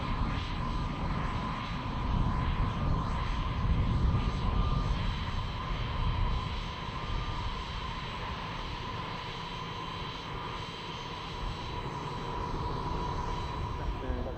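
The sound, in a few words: fixed-wing aircraft flying at the RIAT 2003 air show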